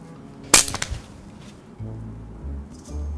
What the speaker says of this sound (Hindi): ये मेरे क्लिप टूटने की आवाज थी